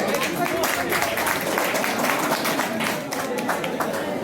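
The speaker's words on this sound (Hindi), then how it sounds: "ताली होनी नहीं चाहिए, ताली बजनी चाहिए।" A crowd claps at a Makar Sankranti community gathering in Darbhanga, a loud, dense and continuous wash of hands that stays strong before cutting off abruptly, with voices faintly mixed in.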